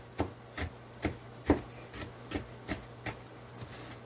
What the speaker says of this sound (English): I'm just chopping up a little bit finer.